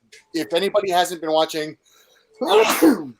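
A person speaks briefly, then after a short pause a single loud sneeze bursts close to the microphone during a live stream.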